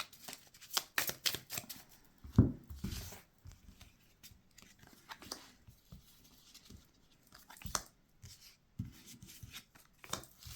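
Cards are shuffled and laid out one by one for a reading, giving close, quiet riffling bursts followed by soft slaps and slides as individual cards are set down.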